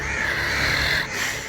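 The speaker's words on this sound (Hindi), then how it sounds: "उनके सर पर कई चीले और कौवे कां कां करते हुए उसके साथ आगे बढ़ रहे हैं।" Crows and kites cawing over a graveyard, a dense, continuous chorus of harsh calls from several birds that stays loud and steady with a brief dip near the end.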